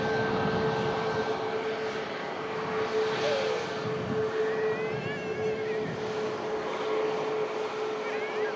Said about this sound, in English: They just have the Sun Express Max touching down